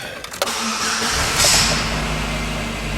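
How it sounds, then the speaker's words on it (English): A car engine cranks briefly and catches, then settles into a loud, steady idle close by, with no talking; the vehicle is being checked for collision damage to its suspension. "I'm going to activate the parking brake, start it up"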